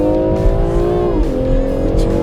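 A Mercedes W124 at full throttle on a race track, its engine note loud and close, rising steadily then dipping briefly as it shifts before pulling hard again with continuous strong revving.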